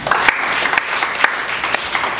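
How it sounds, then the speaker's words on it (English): A church congregation claps in praise to God, a loud, close round of many hands with a few sharp individual claps popping out above the steady patter. "Can we give God a clap of praise?"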